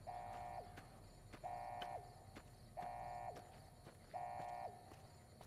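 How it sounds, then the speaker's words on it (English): A repeating electronic alarm tone sounds from the game Fallout: New Vegas, four evenly spaced flat beeps of about half a second each, moderately loud over a faint background with clip-clop-like thuds, and no talk. "That's an alarm."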